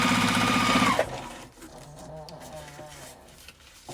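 A sewing machine stitches the seam of a makeup zipper bag. A fast, steady mechanical whir runs for about a second, then stops, and a quiet voice follows.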